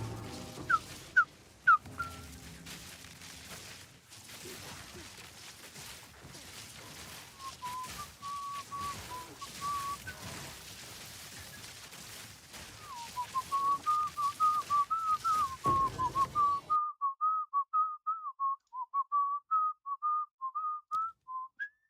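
A person whistles the intro of a song, a clear melodic line of repeated short notes that grows steadier and more rhythmic toward the end, heard close and alone over faint background noise.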